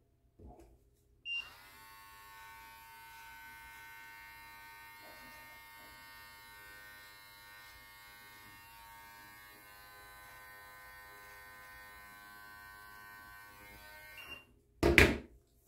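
Electric beard trimmer buzzing steadily through a beard trim, a faint, even motor hum running for about thirteen seconds after a click on, ending with a louder clunk as it is set down.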